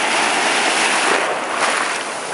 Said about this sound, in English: Coming up to the waves now.